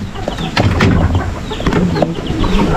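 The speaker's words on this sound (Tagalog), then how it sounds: "Tandang yan." Chickens on a small backyard farm with Black Australorps, a rooster's clucks and short calls sounding close and fairly loud over a busy, noisy outdoor background, with no talking.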